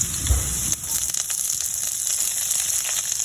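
Ginger frying in a pan gives a steady, close hiss of sizzling with small crackles and pops throughout, loud and continuous with no voices over it.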